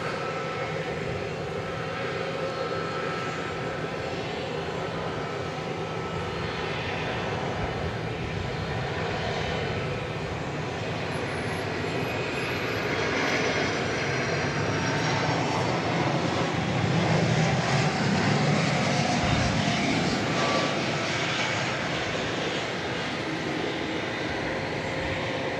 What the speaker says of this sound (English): Get this turn of the century Atlas Air 747 Queen O' the Skies on Runway DFW.